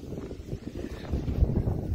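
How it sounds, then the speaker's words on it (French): Strong wind buffets a microphone outdoors, producing a continuous low rumbling roar that swells louder in the second half, with no voices. "Je sais pas si vous allez m'entendre avec ce vent"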